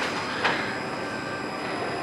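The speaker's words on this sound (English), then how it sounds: "Final train of the day before park shuts." The Hyperia roller coaster train runs with riders at the end of the day, giving a steady distant rumble of wheels on track with one brief clank, fairly even throughout and without talk.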